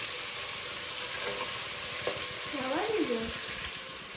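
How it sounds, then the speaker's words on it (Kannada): Mutton frying in hot oil with garlic paste, a steady hiss and sizzle running throughout, with a brief faint tonal sound like a cat's meow near the end. "ಬೆಳ್ಳುಳ್ಳಿ ಪೇಸ್ಟ್ ಹಾಕಿ ನೆಕ್ಸ್ಟ್ ಮಟನ್ ಹಾಕಕತ್ತಾಳ."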